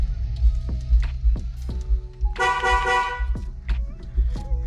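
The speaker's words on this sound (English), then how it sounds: "Horn works." A 1999 Camaro's car horn honks in one sustained blast of about a second, standing out clearly over a background of music with a thumping beat.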